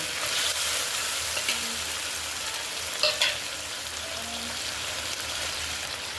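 Spices, ginger-chili paste, turmeric, cumin and salt frying in hot oil for an elephant-foot yam dish, giving a steady soft sizzle throughout with a couple of faint stirring clinks and no talk.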